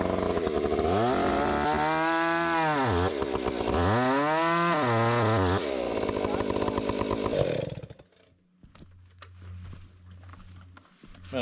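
A chainsaw revs hard and bogs while cutting wood on a homestead in Alaska, its engine pitch rising and falling through two cuts, then dropping to a sputtering idle near the end.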